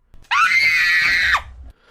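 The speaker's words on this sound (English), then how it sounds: "Until a scream." A girl at a beach in Australia lets out one long, piercing scream after being knocked off her surfboard; it is sharp, sustained for about a second and clear, then cuts off abruptly.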